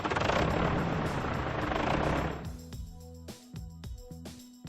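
A garbage truck's engine rumbles loudly and steadily for a couple of seconds, then gives way to quieter, intermittent mechanical clanks and tonal hums.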